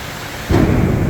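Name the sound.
thunder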